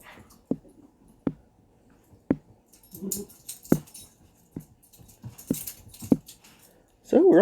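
Dog in the zombie survival video game BodyGuard: Zombie Simulator Z, heard as quiet whimpers and soft canine noises among sharp, sparse clicks and thuds, ending in a louder whining burst.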